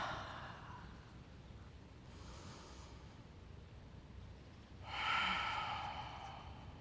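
Deep yoga breaths during a seated twist: soft, airy inhales and exhales, quiet at first, then a louder, longer exhale near the end, alone with no talk.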